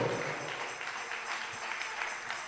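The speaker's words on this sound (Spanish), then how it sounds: "Dale un aplauso al Rey con todo tu corazón" A church congregation gives steady, continuous applause during a Sunday evening service. The clapping is soft and somewhat distant, a uniform wash of many hands with no break.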